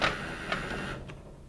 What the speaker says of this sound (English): all I need to do is to press the remove A button to remove the bucket